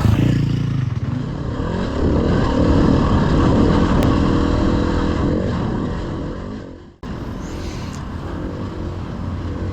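A dirt bike riding single-track trails through rocky, pine-shaded terrain on Rampart Range, its engine droning steadily close by, rising and falling with throttle before a sudden cut and a quieter continuation.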